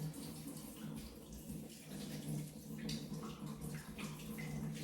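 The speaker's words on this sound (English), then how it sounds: "Wash this off my finger." A kitchen tap runs steadily and fairly softly as sticky treacle is washed off a finger, a continuous low water rush with small splashy flickers and no speech.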